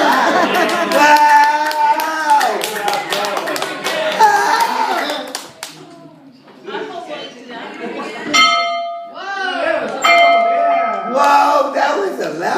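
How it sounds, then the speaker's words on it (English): A loud, clanging old school bell in an old schoolhouse rings repeatedly in bursts, mixed with excited voices and clapping nearby. "Whoa! That was a loud bell. Yeah, that's an old school bell, isn't it?"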